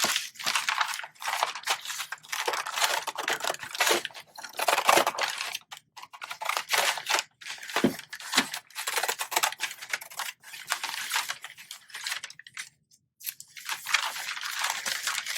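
Scissors cut away excess fabric around a sewing pattern for a raglan sleeve, producing close, crisp snipping and crunching in quick bursts with short pauses between runs.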